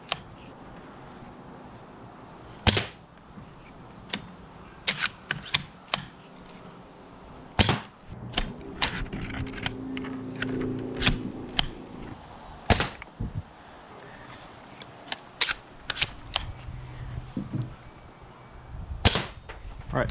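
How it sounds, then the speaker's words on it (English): Airsoft bolt-action sniper rifles fire a handful of sharp, snappy shots spaced several seconds apart, close by, with clicking and rattling of the bolt being worked between shots. "So again, the bolt action snipers aren't the most interesting thing, so I will do only a few shots with these to kind of set the mood with these."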